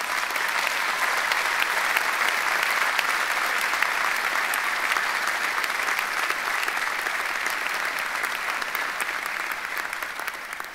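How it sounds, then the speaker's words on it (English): Sustained applause from a large audience at a university presidential inauguration ceremony, dense and steady throughout, fading slightly toward the end with no speech over it. "Let's give them a round of applause."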